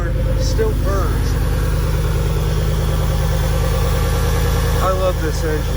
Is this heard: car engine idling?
yes